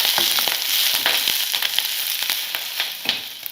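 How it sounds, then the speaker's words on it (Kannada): Drumstick leaves fry in a pan over a low flame, giving a steady bright sizzle scattered with sharp crackles and pops, close and continuous throughout. "ಸೊಪ್ಪು ಹಾಕಿದ್ಮೇಲೆ 1-2 ನಿಮಿಷ ಈ ರೀತಿ ಹುರ್ಕೋಬೇಕು"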